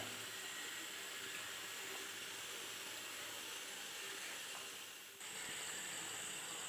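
An egg frying in hot oil makes a steady, faint hissing sizzle with no voices, broken by a brief dip near the end before the sizzle continues.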